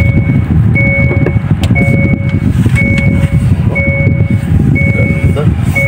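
A 2024 Hyundai Custin 1.5 T puts out evenly spaced electronic reversing beeps, about one per second, over a low engine and cabin rumble heard from inside the vehicle.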